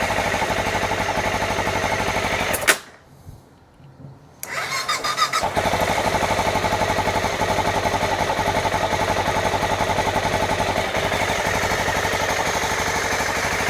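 El Chapo Funduro minibike engine, with a dose of starter spray and slightly bad gas, runs loudly, dies briefly for about two seconds, then catches again and settles into a steady, even idle.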